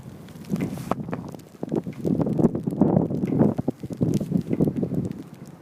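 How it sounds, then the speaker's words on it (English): A bare metal flagpole, its flag removed, clanking in gusty winter storm wind outdoors, with irregular clicky knocks scattered over a continuous low rumble of wind buffeting the microphone. "That clickety clank noise you hear is my flagpole right there."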